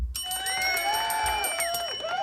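A bright bell rings once and its tone sustains and slowly fades, sounding close and clear with no talking over it.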